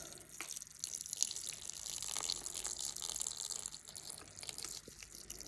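Tap water runs into a rice cooker pot over rice, a faint, steady splashing trickle with small dripping accents that continues for several seconds without any talking.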